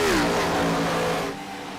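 Onboard a stock car during a race, the engine drones loudly with a harmonic whine that dips in pitch and then holds steady, easing slightly as it settles.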